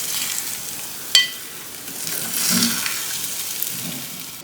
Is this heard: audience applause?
no